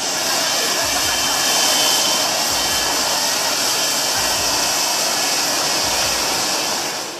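A running aircraft jet engine roars loudly and steadily from close range, a dense broadband blast that holds at full strength throughout, with no voices on top.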